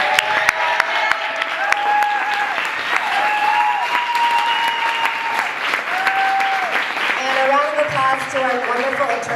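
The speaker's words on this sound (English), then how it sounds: "Can we have one more round of applause for all of the honorees tonight?" A crowd at a 2018 Bay Area arts awards evening applauds the honorees in a sustained, full round of clapping, while a voice speaks or calls out over it throughout.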